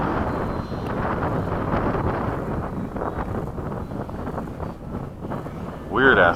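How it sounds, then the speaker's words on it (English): Strong wind buffets the microphone at an RC jet flying field, a steady low rumbling roar with gusts throughout, while a voice speaks over it. "Weird ass wind right there."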